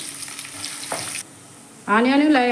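Chopped onion drops into hot oil with cumin, mustard seeds, green chilli and curry leaves for mirchi ka salan; a steady bright sizzle fades partway, then a louder, fuller frying hiss surges back.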